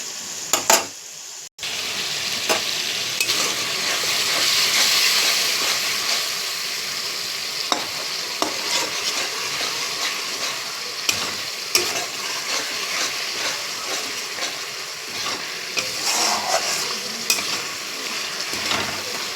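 Spice paste sizzles in a pan while being cooked down for a fish curry with poppy seed paste, a continuous close hiss punctuated by regular scraping strokes of a spatula.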